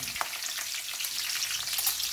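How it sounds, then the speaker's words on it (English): Chilies frying with crackling rye in a pan for khaman dhokla, a close, steady hiss with fine crackles and pops and no talk. "Now that my rye is crackling and it's almost done, I'm gonna go ahead and add some chilies to it."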